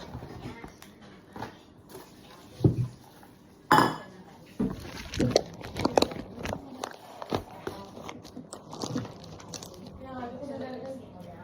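Utensils mix a salad in a bowl, giving scattered clinks, scrapes and soft squishy knocks in irregular bursts, one sharp clatter standing out, with a voice talking at times.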